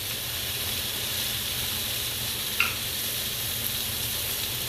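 Butter sizzles steadily in a pan with onions and peppers, a close, even hiss with one brief clink partway through and no talking.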